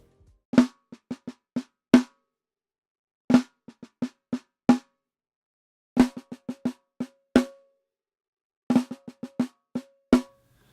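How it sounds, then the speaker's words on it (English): A dry, unprocessed snare drum captured by SM57 and Beta 87A microphones plays four separate bursts of sharp hits: quick flurries of strokes, each ending on a louder accented crack, with silence between the phrases. "So what you just heard is the dry signal of the SM57 and the Beta"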